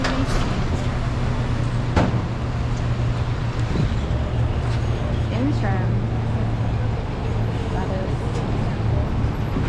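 Inside a moving Philadelphia number 9 city bus, steady engine drone and road rumble fill the cabin while a person talks over it.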